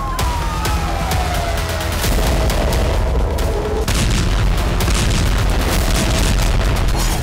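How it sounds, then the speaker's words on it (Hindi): Bomb explosions in Gaza, a dense stretch of booms and sharp cracks rolling over one another, loud and continuous, with a siren-like tone rising and falling faintly behind. "गाजा में पिछले करीब 4 महीनों से सिर्फ बमों की आवाजें ही सुनाई दे रही हैं।"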